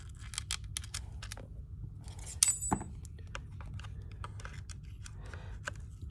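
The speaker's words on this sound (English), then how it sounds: "put our screw in place" Small screw being set in place while installing a Picatinny rail on a ZF-5 sight, heard as a few light metallic clicks and taps close by, with one sharper clink in the middle over a low steady background hum.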